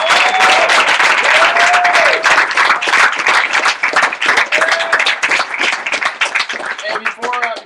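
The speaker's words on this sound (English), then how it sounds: "Let's give him a round of applause." A crowd at a business training event claps loudly and continuously, a full close round of applause with cheers and whoops mixed in and voices calling out over it.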